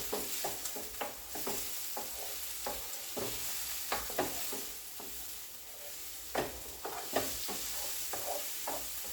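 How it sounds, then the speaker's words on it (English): A spoon scrapes through a cheesy Tex Mex seven-layer dip in a pot, making repeated soft scraping and squelching strokes in an uneven rhythm, close and clear with no talking. "we'll give that a stir here"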